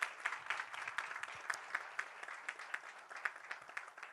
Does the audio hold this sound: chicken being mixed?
no